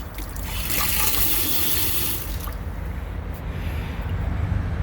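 Water runs from a newly replaced outdoor hose bib, a steady splashing rush that surges louder early on, then continues more softly; no talk.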